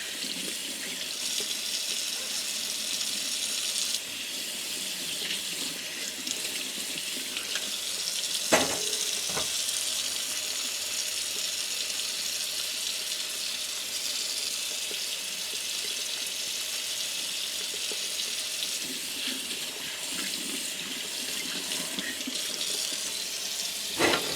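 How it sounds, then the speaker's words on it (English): A canning jar is washed under a steady running tap at a sink, the broadband rush of water continuous throughout with a couple of brief clinks of glass midway, close and alone with no talk. "And then just thoroughly wash the jar."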